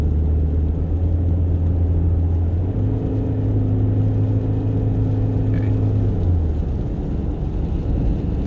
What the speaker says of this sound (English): Giving it a little bit of gas so that way I can keep climbing up the hill.